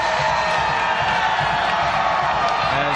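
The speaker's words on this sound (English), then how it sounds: "that's why you hear the crowd going nuts as they showed it on the big screen" A college football stadium crowd roars at Pitt as a Panthers score is shown on the big screen, a loud, dense, sustained wall of cheering and shouting heard from within the stands.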